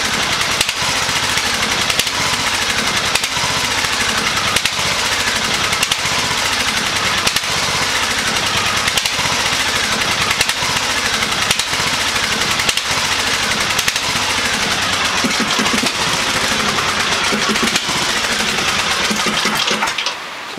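A small tractor engine runs steadily at close range for about twenty seconds with a rapid mechanical chatter while its fuel is being drained. It stutters and cuts out abruptly at the very end as the gas runs out.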